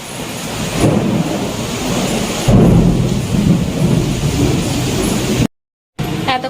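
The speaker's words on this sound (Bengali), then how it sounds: "এত জোরে বাজ পড়েছে আর বৃষ্টি হয়েছে" A heavy thunderstorm, with dense roaring rain and deep rumbling thunder that swells twice, loud and near, then a brief dropout before the downpour resumes.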